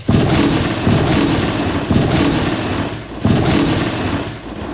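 Three heavy gunshot blasts fire at spaced intervals in a Thai radio drama about a jungle hunter. Each is loud and booming with a long rumbling decay, and no voices are heard.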